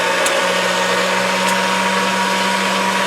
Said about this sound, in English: Then I will turn my pasta machine down to a number 3.